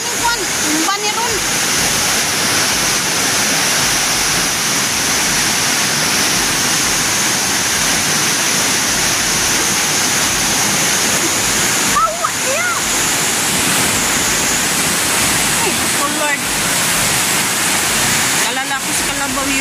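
Strong floodwater roars through the Piñan river, a loud, continuous rushing wash with splashing. Voices speak over it at a few moments.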